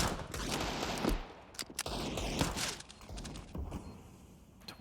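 Rapid gunfire sprays through smoke in a Counter-Strike match on the Vertigo map, heard as repeated bursts of loud, cracking shots with brief gaps and faint footsteps between them.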